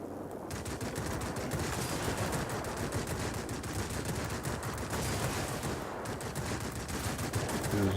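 Rapid, dense machine gun fire from an F4U-4 Corsair in World of Warplanes, a loud continuous rattle sustained throughout with only brief dips.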